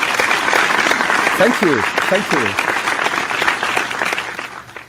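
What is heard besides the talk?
applause from audience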